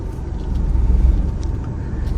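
A car rolls slowly through a Ganesh Chaturthi puja pandal built across the middle of a road. A loud, steady low engine and road rumble fills the interior.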